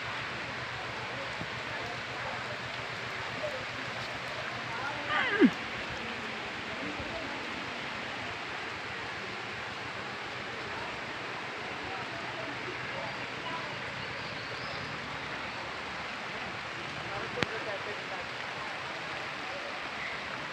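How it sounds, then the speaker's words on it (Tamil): Heavy rain falls steadily on a village in a dense, even hiss that runs throughout at moderate level, with a couple of brief louder knocks, and no one speaks. "பாருங்கள் எங்கள் ஊரில் நிறைய மழை பெய்யுது"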